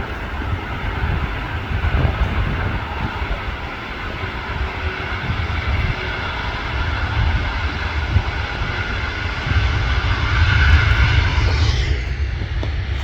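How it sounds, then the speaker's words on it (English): A Qatar Airways A350 at Manchester Airport produces a broad, steady jet engine roar, fairly loud and close, building gradually with constant rumbling and no speech. "Qatar Airways A350. Beautiful."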